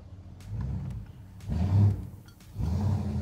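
A Ford Ranchero pulls away and drives off, its low engine rumble swelling in three surges as it accelerates, fairly close and loud with no talk over it.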